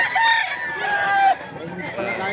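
A two-year-old Boston-Cardinal cross rooster crows at the Bocaue tiangge market, one loud, close, drawn-out call lasting over a second before it cuts off into busy market background noise.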